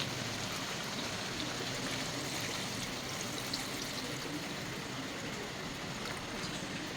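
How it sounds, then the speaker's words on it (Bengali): Water pours steadily into a pot of chicken curry with potatoes, a continuous close rushing splash that stays even throughout, with no voices. "এখন এর মধ্যে আমি ঝোলের জন্য জল অ্যাড করে দেব"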